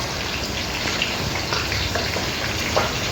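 Onions sizzling in hot oil in a pan while tempering for biryani dalcha, a steady close crackling hiss with scattered pops throughout, no voices.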